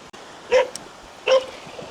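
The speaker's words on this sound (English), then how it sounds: "Oh, and I see another beach dog." A beach dog by the waves at a quiet beach in Khanom, Thailand barks twice in sharp, spaced yelps at moderate distance over a faint, steady background of surf.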